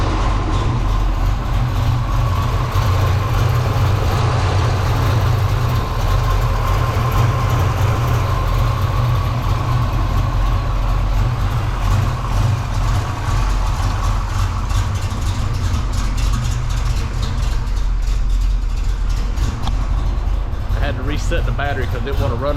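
A Ford Foxbody Mustang fitted with a Vortech V2 supercharger and running on 93 gas holds a loud, steady, deep engine rumble throughout, with a constant droning hum and no clear changes in pace.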